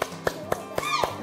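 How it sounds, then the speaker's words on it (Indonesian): Primary schoolchildren in an Indonesian fourth-grade class clap together for a classmate. Five crisp, evenly spaced claps in a steady rhythm sound close and moderately loud in the room. "Oke, tepuk tangan untuk Zara."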